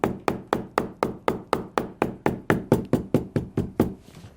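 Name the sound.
hammering cowboy boot lining in place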